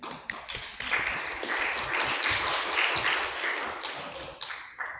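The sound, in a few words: audience applause at debate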